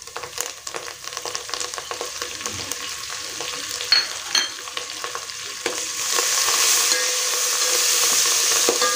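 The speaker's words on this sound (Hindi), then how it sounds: "धनिया को हम तेल में ही डालेंगे ताकि ये जो है ना, इसका मॉइस्चर सारा उड़ जाए।" Finely chopped coriander fries in oil with onions and chillies for a poha and puffed-rice chivda, a crackling sizzle with frequent spoon taps and stirring scrapes that swells into a denser hiss toward the end.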